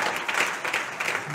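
A church congregation bursts into applause, a brief, loud, dense wash of clapping hands with a few sharper claps, filling the space for just over a second.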